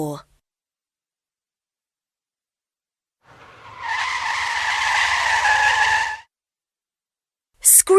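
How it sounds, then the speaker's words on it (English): Tires screech in one sustained, loud skid of about three seconds, standing alone between stretches of silence. "Screech!"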